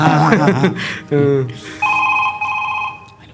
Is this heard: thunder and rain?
no